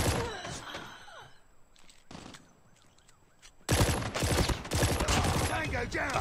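Gunfire in a shooter game: a quick burst of shots, a lone crack, a quiet lull, then a heavy sustained barrage of rapid fire and impacts, loud and close.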